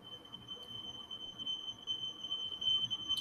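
A smoke alarm sounds as a faint, steady high-pitched tone held throughout over quiet room noise, with no voices.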